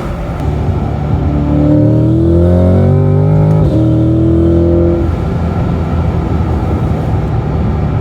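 A twin-turbo C8 Corvette exhaust in quiet mode gives a deep, steady rumble with a brief rise in pitch as it revs, smooth and continuous for the whole stretch.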